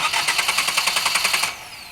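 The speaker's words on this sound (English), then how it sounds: "I'm sending a signal to the starter to tell it to turn over." Starter cranking the engine of a 2013 Ford Focus that won't start, a fast rhythmic chugging of about a dozen even pulses that stops abruptly after a second and a half, leaving a quiet tail.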